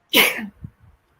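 One sharp, close sneeze bursts out during a live online show, followed by a faint breath or small vocal sound as it fades.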